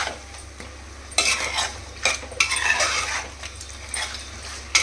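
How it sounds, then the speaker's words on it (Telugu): Chicken kurma with salt and turmeric stirred in a pot, a low steady simmer under bursts of scraping and clinking from a spoon against metal, strokes coming every second or so, close by and without voices. "ఇది మొత్తం ఒకసారి మిక్స్ అయ్యే విధంగా కలుపుకోవాలి"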